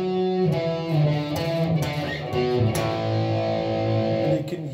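Electric guitar plays a riff slowly, single notes moving to a power chord on A, with a steady overdriven tone and deliberate, spaced phrasing, played alone.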